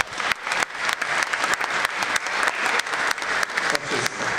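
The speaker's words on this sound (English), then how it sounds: "Let's give the cheers of applause." Dense, sustained applause from an audience at a Polish American Congress awards gala, steady clapping filling the room throughout with no break.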